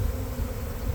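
Honeybee swarm fanning at a hive entrance, a dense, continuous low buzzing hum of many wings close by, steady throughout with no talk.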